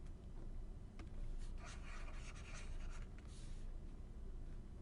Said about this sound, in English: So let me erase this.